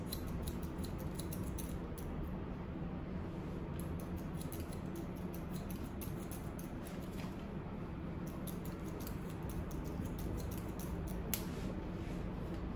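Scissors snip hair steadily during a classic men's haircut done with scissors over a comb, a rapid run of crisp, close metallic clicks over a soft background hiss, with no talking.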